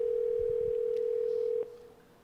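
A steady telephone ringing tone holds for about a second and a half, then cuts off, leaving faint background hiss.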